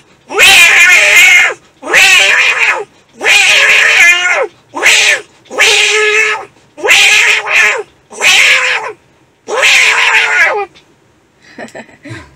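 A person's voice imitates two cats fighting, producing a series of loud, close yowling and caterwauling bursts in quick succession. The burst ends briefly before a faint trailing sound.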